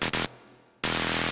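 Reverb-drenched bass sample layered with white noise, two loud bursts separated by a quieter fading reverb tail and hiss, then a strong return, alone without talk.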